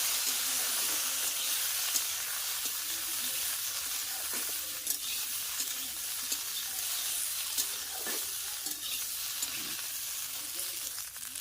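Jujube pickle cooks in a pan while being stirred, giving a quiet, even hissing sizzle throughout, with faint scraping knocks from the stirring now and then.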